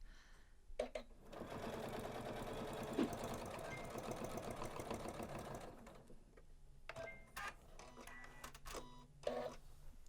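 A Janome sewing machine runs a long continuous stitch at a fast, rattling pace for several seconds, then stops, leaving a few short clicks and small handling noises.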